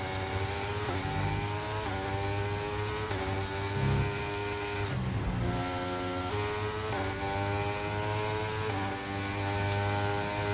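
Formula 1 cars race in the F1 23 video game at the Spain round, their engines screaming in repeated rising whines that break at each upshift, loud and continuous.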